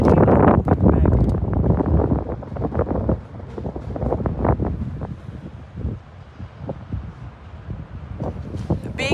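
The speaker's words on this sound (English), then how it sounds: "It is very windy today" Strong wind buffets the microphone at the top of a tower in Winnipeg, loud irregular gusts booming and thudding in uneven bursts, easing slightly midway before surging again.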